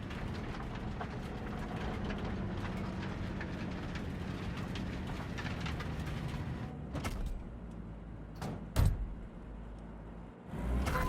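A train rolls along steadily in Cyberpunk 2077, a continuous low rumble and rattle at moderate level, followed by a few sharp clanks and a brief louder thump toward the end.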